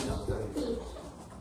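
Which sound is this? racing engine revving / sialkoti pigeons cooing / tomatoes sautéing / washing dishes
sialkoti pigeons cooing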